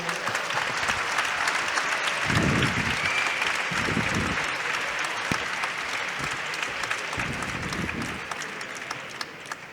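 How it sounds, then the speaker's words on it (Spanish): An indoor audience at a diabetes event applauds a speaker, steady dense clapping that fills the room and slowly fades toward the end, with a few voices briefly rising over it. "pido un fuerte aplauso para el gran Serafín Murillo"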